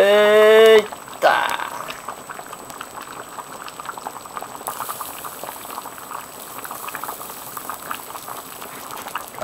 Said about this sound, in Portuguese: Agora tá fervendo.